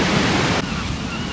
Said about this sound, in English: having a look at the waves